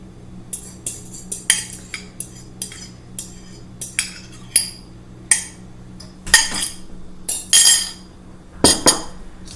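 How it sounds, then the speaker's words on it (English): A utensil stirs an egg mixture through bread and Spam in a 9x13 casserole dish, producing irregular scraping strokes and sharp clinks against the dish, close and fairly loud. "Give that a good stir."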